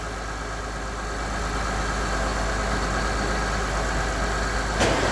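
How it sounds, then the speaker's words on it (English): A 2007 Honda Odyssey minivan engine idles steadily and close, a constant low hum with an even texture throughout, and a brief click near the end. "Okay, start with the motor running."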